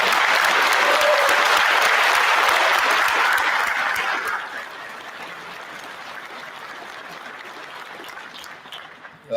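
Loud, dense applause from an audience at a sheriff's office promotion and awards ceremony honoring public servants, sustained for about four seconds before thinning into scattered claps and room noise.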